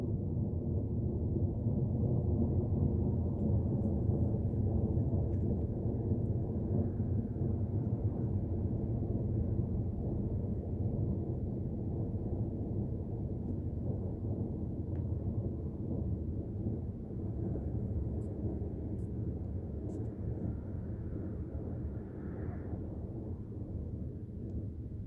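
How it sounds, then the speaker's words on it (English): Military jets fly overhead at night, producing a loud, continuous deep roar that rumbles steadily for about twenty-five seconds and fades slowly, with no voices. "Dude, we got some like military jets up there."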